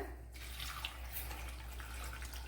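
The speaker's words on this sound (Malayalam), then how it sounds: "ഇതിനാവശ്യമായ വെള്ളം ഒഴിച്ചു കൊടുക്കാം" Water poured into a pot holding one kilogram of tapioca (cassava) for boiling, a steady close tap-like rush that runs on without pause and with no talking.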